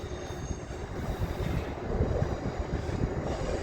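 A train approaches Manors station in Tyne and Wear with a steady, dense low rumble and broadband rolling noise that swells slightly as it nears; no talking.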